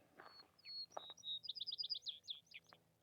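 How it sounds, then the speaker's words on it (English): A small sparrow sings from a roadside corner along a rural road in Montana, a run of bright, quick whistled notes and trills repeated in a rapid series, fairly close and clear over a quiet background. "I just want to show you this little sparrow here on the corner."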